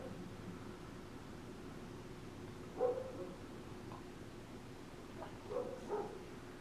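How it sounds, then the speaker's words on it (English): A pet dog barks from another room somewhere in the house: two brief, distant bursts of barking over a quiet hiss, with no talking. "Dog barking ASMR."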